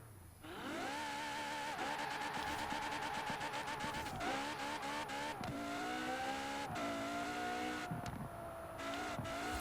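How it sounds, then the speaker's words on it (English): A high-pitched Ferrari Portofino engine in Forza Horizon 4 revs hard, pitch climbing and dropping through several gear shifts, loud and continuous with no talking. "I actually don't know what Ferrari that engine comes from."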